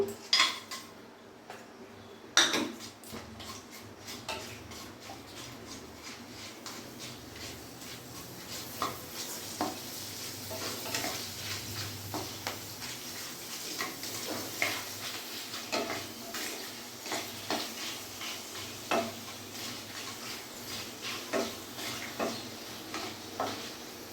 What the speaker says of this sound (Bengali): গরম হয়ে গেছে, আমি আগে পাঁপড়গুলো ভেজে নেবো।